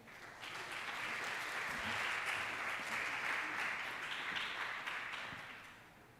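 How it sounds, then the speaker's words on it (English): An audience at a CEO talk at Chulalongkorn School of Integrated Innovation applauds to welcome a speaker on stage, a steady wash of clapping that swells and fades, heard from a distance and fairly faint. "give him a big round of applause"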